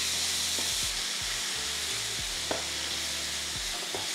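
Chilli beef sizzles in a pan with too much oil while it is stirred around, giving steady hissing broken by soft scraping strokes.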